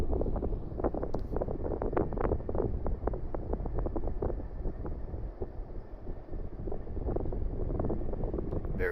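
Fasco Gillespie ceiling fan spinning on its high setting, giving a steady broadband whoosh of strong airflow with a dense, fluttering texture throughout, close and continuous with no talking.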